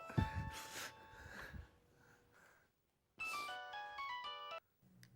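A telephone rings in a bright, steady burst of electronic tones, preceded by breathy, humming vocal sounds that may mimic the ring.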